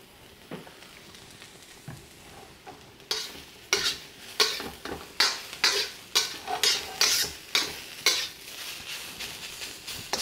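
Turnip cake frying in added oil, with a steady low sizzle and then a run of regular scraping stirs from a utensil against the pan, close and clear with no voices.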